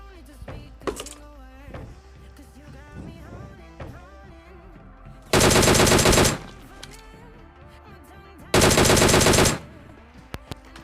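A DP-28 light machine gun fires in the mobile shooter game PUBG Mobile: two loud sustained bursts of rapid automatic fire, each about a second long, a few seconds apart, over quieter game sounds and a faint voice.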